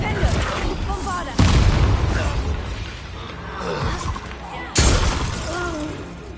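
In Hogwarts Legacy, the Bombarda blasting spell sets off loud shattering explosions, a heavy boom with crumbling debris, then a second booming blast a few seconds later, with a voice speaking in between.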